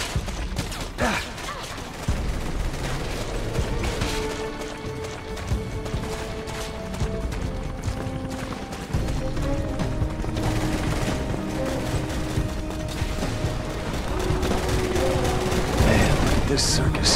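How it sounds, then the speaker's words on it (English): Video game Resident Evil 6 combat with continuous rapid gunfire, automatic weapons rattling in a dense, steady fusillade throughout, loud and busy, with voices talking over the shooting. "what the hell are you shooting at?"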